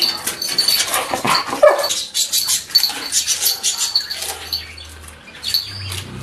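A pet dog barks in short repeated bursts close by, sharp and loud over a quiet room, with a low hum near the end.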